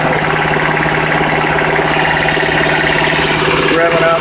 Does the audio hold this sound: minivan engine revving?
yes